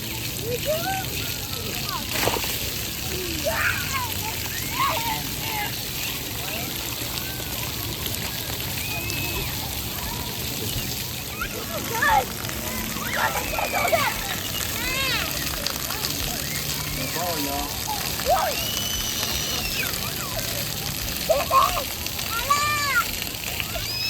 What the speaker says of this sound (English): they also have a really nice splash pad for the kiddos